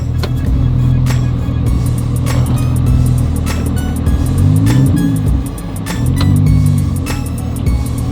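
A Lamborghini engine drones loudly and steadily as the car slides through a snowstorm on slippery snow, revs rising and falling in two sweeping surges, with faint ticks and clicks over the constant roar.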